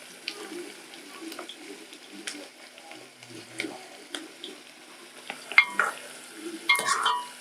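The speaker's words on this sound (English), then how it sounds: "This is a simpler way of frying it." Soft sizzling and frying of onions and mokimo with occasional stirring scrapes, steady and close, with a clatter near the end.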